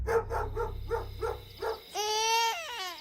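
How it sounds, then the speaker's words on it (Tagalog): A dog tied up outside a house barks six times in a quick, regular series, followed by a baby's loud crying, in a night-time horror story setting. "na pagtahol ng aso nila na nakatali sa labas ng bahay"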